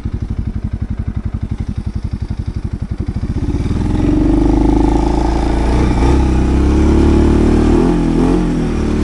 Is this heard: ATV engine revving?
yes